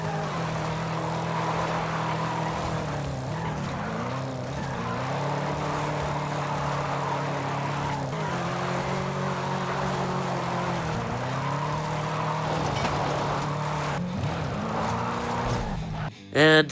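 Chevrolet Camaro engine in Forza Horizon 5 droning steadily while driving, rising and falling through gear changes for over fifteen seconds with continuous speech over it, cut off abruptly near the end.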